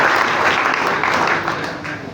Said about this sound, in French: tu peux acclamer très fort pour la gloire de Dieu